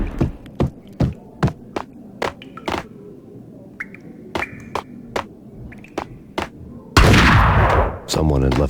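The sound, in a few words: gunfire in video game Max Payne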